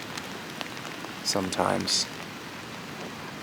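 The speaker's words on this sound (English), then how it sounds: "I'm just trying to use it to shelter some of the rain" Steady rain pattering on a portable travel photo blind outdoors, a constant soft hiss throughout, with a short spoken word partway through.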